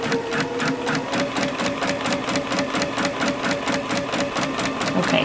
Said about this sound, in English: A seam right here and sewing over.